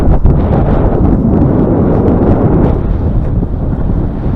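Wind roars steadily across the microphone aboard a fishing boat on open water, a loud, unbroken rumbling buffet that drowns out everything else.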